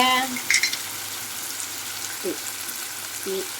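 Ingredients sautéing in a pan for spicy prawn thokku, a steady bright sizzle throughout with a few stirring scrapes, close and fairly loud.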